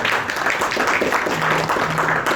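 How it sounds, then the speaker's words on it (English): An audience claps at the groundbreaking ceremony for Malaysia's net-zero-carbon pavilion at Expo 2020 Dubai, a dense, continuous round of applause throughout, with a faint voice in the background. "Can we give a round of applause to each and everyone?"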